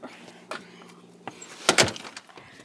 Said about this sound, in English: Okay, let me shut the door.